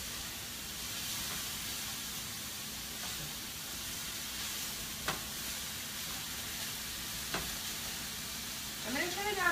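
Sloppy joe mixture with onion frying fast in about a tablespoon of oil in a hot pan, a steady loud hiss and sizzle throughout with occasional sharp clicks of a utensil and a scrape near the end.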